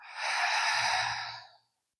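A long, breathy exhale during a prenatal yoga breathing exercise, close and soft, lasting about a second and a half before fading into silence.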